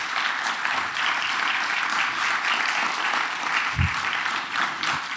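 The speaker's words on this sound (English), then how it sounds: "give one more quick round of applause to everyone in this building" A room full of audience members at a public talk gives a steady, dense round of applause that holds evenly throughout, with one soft low thump partway through.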